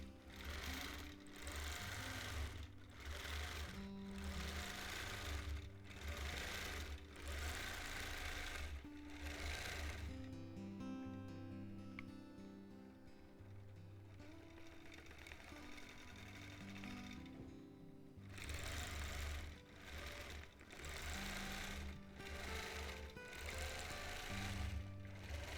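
Sewing machine quilting trees on a custom quilt, tying lock stitches: loud, rapid needle hammering in bursts, a quieter slower stretch in the middle, then fast stitching again, with no talk.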